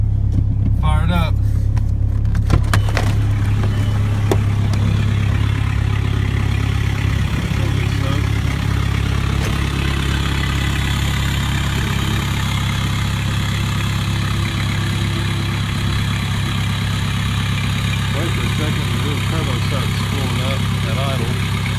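A 2001 Volkswagen Jetta TDI diesel with a 2.5-inch turbo-back straight pipe exhaust idles loud and close, a steady low rumble running throughout, with a few louder knocks near the start.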